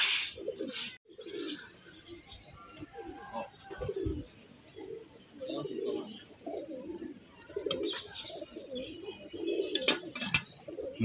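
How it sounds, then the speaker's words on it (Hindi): Pigeons, including off-colour tumbler pigeons, coo in soft repeated low throaty phrases near the microphone, with occasional chirps and a voice speaking faintly among them. "इनके भी कबूतर निकल निकल के आ रहे हैं।"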